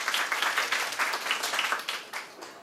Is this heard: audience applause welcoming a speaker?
yes